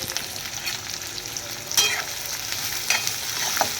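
Onions sizzling in a pan for Marathi-style egg rice, a continuous close frying hiss broken by a few sharp scraping stirs of a spatula.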